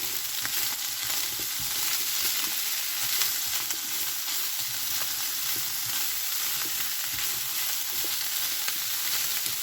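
Steady crackling sizzle of chicken frying in a hot pan, continuous and close, with occasional soft pops and no voices.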